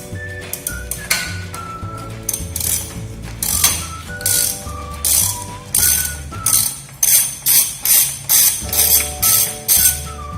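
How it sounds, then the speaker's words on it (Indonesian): A ratchet handle fitted with a 17 mm socket loosens the bolts on a Torqflow transmission's counter valve cover, its clicking pawl rattling in repeated bursts that become a steady, close, rhythmic series of ratcheting strokes over background music. "kita melepas pada cover counter valve dengan menggunakan bantuan ratchet handle dengan ukuran soket 17 mm"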